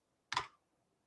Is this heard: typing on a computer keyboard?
yes